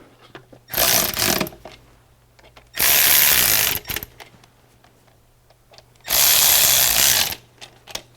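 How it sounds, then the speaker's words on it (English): A power tool snugs the transmission oil pan bolts on a Dodge Durango in three loud, close bursts of about a second each, separated by quiet gaps of small clicks. "I got all the transmission oil pan bolt started, so now I'm gonna get them snug before I torque them down."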